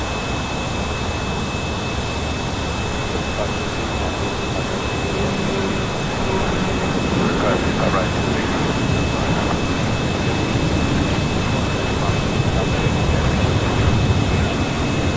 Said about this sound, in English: This is All Nippon Airways Flight 5 taking off to Tokyo Narita on a 787-9 Dreamliner.